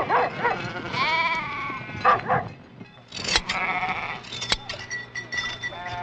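Navajo-herded sheep bleat repeatedly in a mixed flock, several wavering cries overlapping close by, along with a few sharp barks from a dog nearby.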